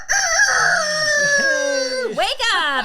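A rooster crows loudly and close, one long drawn-out cock-a-doodle-doo that bends and wavers before ending in a rising squawk.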